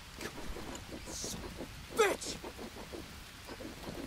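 Steady rain with a rumble of thunder in the jungle survival game Green Hell, a continuous hiss of falling water with a brief louder crack near the middle.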